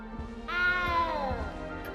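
A small cat in the Hogwarts Legacy video game meows once, a drawn-out, falling cry that rises over a low background hum and fades slowly.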